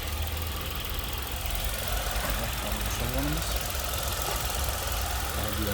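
A 2019 Chevrolet Spark with a 1.0-litre petrol engine idling, a low steady hum with slight knocking vibration throughout, fairly quiet and continuous.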